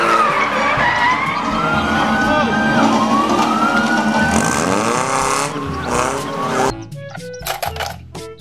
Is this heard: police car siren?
yes